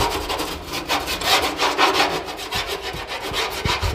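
Rust being scraped off the lower wing of a Mustang under restoration, a rhythmic back-and-forth rasping scratch repeated steadily at close range with no talking.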